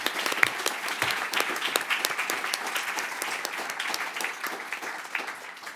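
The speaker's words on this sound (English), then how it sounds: "please give them a hand of applause" An audience at an international law event applauds Pacific Island youth with a steady wash of many hands clapping, fairly close and sustained throughout.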